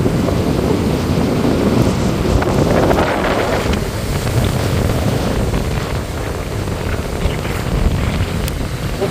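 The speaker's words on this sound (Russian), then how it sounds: "Ветер все усиливается, и волнение тоже меня практически сдувает." Strong wind buffets the microphone in a constant roar, with sea waves surging and crashing close by throughout, on the Crimean coast.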